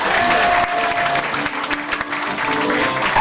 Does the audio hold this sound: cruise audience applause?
yes